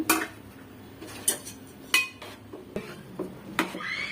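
Metal pot lid lifted, then a spoon scraping and clinking against the pot while Bagara rice is stirred, with sharp intermittent knocks and clatters close by and no voices.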